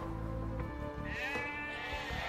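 Sheep bleating in the video game Age of Empires II, a few drawn-out wavering bleats rising over a steady layer of game ambience, moderately loud and close.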